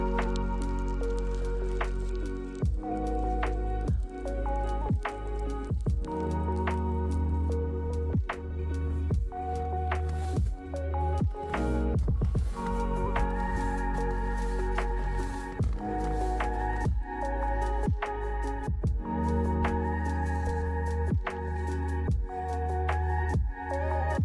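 Water drips behind a frozen waterfall in Svalbard. Irregular plinks and drops fall steadily over a constant low rumble, with no voices.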